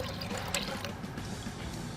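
Water poured from a measuring cup into a pot for grits, a steady close splashing pour that runs the whole time with no talk.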